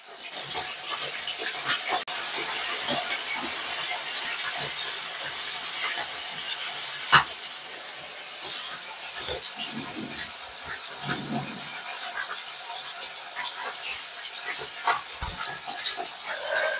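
Koi fish fry in hot oil, a continuous bright hiss with scattered pops and crackles, plus a few low clunks from handling the pan, and no talking.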